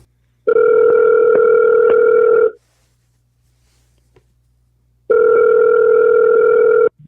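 Telephone ringback tone on an outgoing call-back: two long steady buzzing rings separated by about two and a half seconds of silence, loud and close, with no voices.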